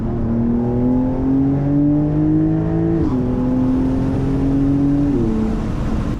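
A 2022 Porsche 911 Carrera engine in Sport Plus mode revs loudly and steadily, its pitch climbing through gears with brief drops at each shift, close and continuous.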